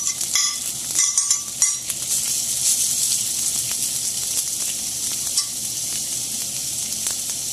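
Sausage and cauliflower rice sizzling in a hot pan, a bright steady frying hiss with a few sharp crackles and stirring clatters early on, close and alone without talk.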